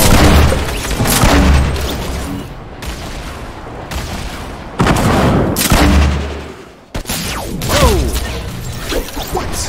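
Loud, close gunfire from Fortnite, with heavy rapid bursts and booming shots repeating across the whole stretch and only brief gaps between volleys.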